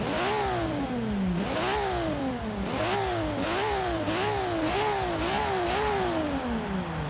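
Toyota Supra MK3 engine in Forza Horizon 3 firing up and revving repeatedly, pitch climbing and dropping in a steady series of rises and falls, loud and close with no talk.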